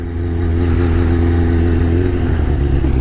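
A 2001 Kawasaki Ninja ZX-6R motorcycle on the move, its engine holding a loud, steady, close drone with a faint throb and no pauses throughout.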